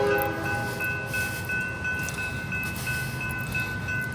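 A CSX freight train approaching, its multi-tone horn blaring in sustained chords over a rumbling, rolling train noise that stays loud and near throughout.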